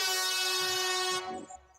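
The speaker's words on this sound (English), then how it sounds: "We can have a air horn." A loud, blaring air horn blast holds steady for over a second, then cuts off abruptly.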